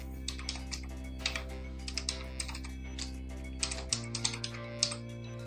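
Rapid, light keystrokes on a computer keyboard as login credentials are entered, a steady run of close, quiet clicks with short pauses and a faint background hum.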